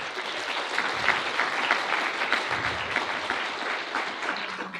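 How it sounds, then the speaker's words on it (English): An audience at a European Parliament public meeting in Stavanger, Norway applauds speakers on stage, with continuous hall clapping at an even, moderate level for about five seconds. "Give them a huge applause."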